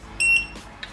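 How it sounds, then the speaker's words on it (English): A single sharp electronic beep from a torque wrench on a BMW M2 Competition during a spark plug change signals that the set torque has been reached. It sounds once, clear and close, and a faint tick follows. "Right when that red light beeps,"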